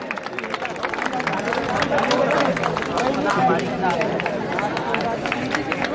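Students and guests at a college annual function award ceremony applaud steadily, a dense run of claps that lasts throughout, with crowd chatter underneath.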